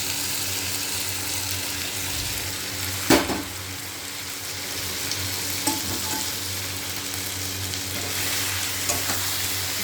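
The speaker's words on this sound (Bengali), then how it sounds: "আলু পটলটার সঙ্গে মশলাটা একটু কষিয়ে দেবো।" Fried pointed gourd and potato sauté with spice paste in a pan, giving a steady, close sizzle with a few clattering stirs, the loudest near three seconds in, and no talking.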